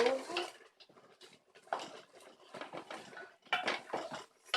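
Chicken thighs with oregano are stirred in a pan, heard as repeated close scraping and clattering of a utensil against cookware in uneven bursts, with brief quiet gaps.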